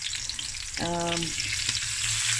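Garlic, ginger and chilies sizzle with lamb in a hot pan on lowered heat, a steady close frying crackle with a brief tonal beep over it early on.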